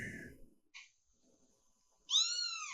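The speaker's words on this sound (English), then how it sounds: "No, it's a kitten." A kitten meows: a short faint call, a thin high sustained cry after a pause, then a louder rising meow near the end, close by and mostly alone.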